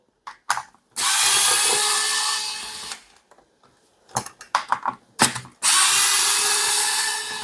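A power screwdriver whirs in two sustained bursts, removing screws from a bidet's hot water tank, separated by clicks and rattling of screws and parts being handled nearby.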